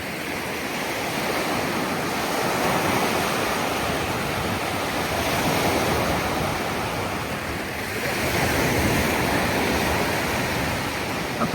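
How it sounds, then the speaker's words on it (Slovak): Sea waves break and wash continuously on a beach at Salalah, Oman, a loud, broad roar swelling and easing over several seconds with no voices. "Tu sú tieto vlny."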